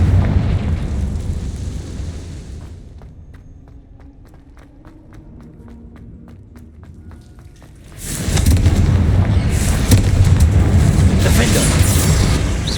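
A Confringo spell detonating in Hogwarts Legacy, a loud, sustained fiery blast that swells and roars for several seconds after a quieter stretch of rapid ticking, with a voice calling out in game.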